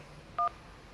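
A single short telephone keypad DTMF tone sounds on a phone call, a clean two-pitch beep lasting about a tenth of a second over a quiet line hiss.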